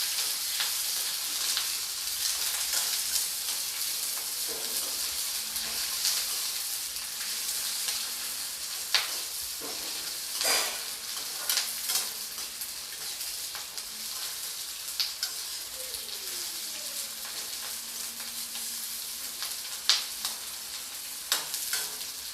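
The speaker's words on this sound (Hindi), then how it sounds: "अब बचे हुए तेल के अंदर मैं डाल दूँगी इस प्याज को। इस प्याज को भी मैं फ्राई करके निकाल लूँगी।" Sliced onion fries in leftover oil for a restaurant-style bhindi do pyaza, a continuous close sizzle with scattered pops and occasional utensil clinks, no voices.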